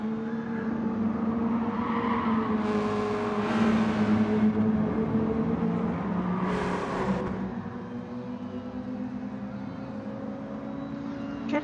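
Race car engines in Gran Turismo Sport, N300 class, drone steadily at a loud, close level. Several rising whooshes pass by as cars close in, and faint background noise sits underneath.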